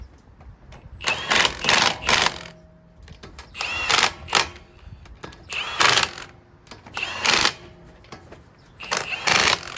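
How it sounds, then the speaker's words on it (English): An impact wrench tightens the lug nuts on a 2002 Toyota Tacoma in a star pattern, firing about six short, sharp rattling bursts separated by brief pauses, close and fairly loud. "I'll get my impact"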